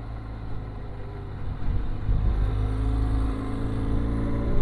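A motorcycle engine climbs a paved road uphill toward Lohgadh Fort, a steady low rumbling drone that swells as the rider pulls harder, close and continuous without talk.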